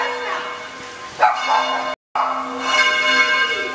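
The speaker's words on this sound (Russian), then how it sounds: "Он не любит звон колоколов" Church bells ring nearby in a Spanish town, a steady sustained peal of overlapping bell tones that swells and continues throughout, with a brief dropout in the middle and faint background sounds.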